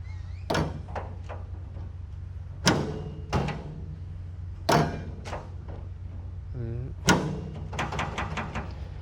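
Drawers of a MAC Tools slide-top tool cart, model UC3720SLF, are opened and closed several times, giving sharp metallic clunks and sliding rattles spaced a second or two apart, close and fairly loud in a quiet room.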